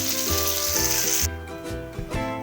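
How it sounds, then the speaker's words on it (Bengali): A tablespoon of mustard oil hits a hot pan for bottle gourd and prawn curry, giving a loud, bright hiss that lasts about a second before cutting off, leaving a low hum underneath. "এবার আমি আরও 1 টেবিল চামচ সরষের তেল আমি এখানে দিয়ে দিলাম।"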